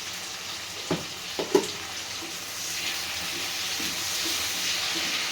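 Moringa drumsticks fry in a pan with salt for a tomato curry, a few sharp clinks at first, then a constant soft hiss of frying oil that swells slightly and holds steady.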